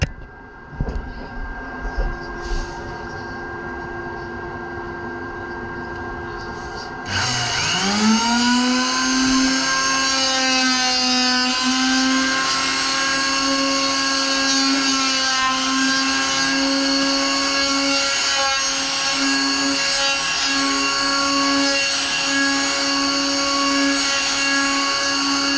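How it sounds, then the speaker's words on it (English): Electric planer shaping a bearing: a brief rough start, then the motor spins up into a loud, steady high-pitched whine with harsh cutting noise that holds for the remaining twenty seconds. "let's plane a bit more and see what happens"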